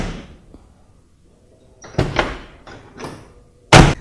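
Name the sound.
truck door closing after weatherstrip install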